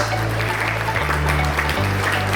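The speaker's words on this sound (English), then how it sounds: "So one applause for all the mothers who have worked hard behind this." An audience at a school workers' day celebration applauds the mothers, a dense, steady wash of clapping over a low sustained hum, with no break across the span.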